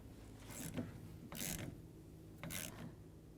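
Nut being snugged down onto the wiper arm stud of a 1999-2007 Chevy Silverado, heard as three short ratcheting, grinding bursts with faint mechanical clicks between them, close and fairly quiet.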